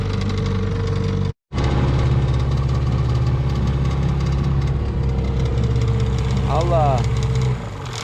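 A motorboat engine on a small recreational lake runs continuously with a steady low hum and rumble, cutting out for a moment near the start before droning on.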